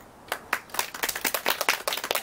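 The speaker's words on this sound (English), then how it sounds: "I want her to be applauded for that" Applause from a small audience at a doula graduation ceremony, starting with a few separate claps and quickly thickening into steady clapping for a couple of seconds with no talking.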